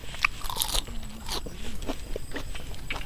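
Someone bites into and chews herbal steamed free-range chicken outdoors by rice fields, giving close, crisp crunching bites at the start, then softer chewing sounds that carry on through the rest.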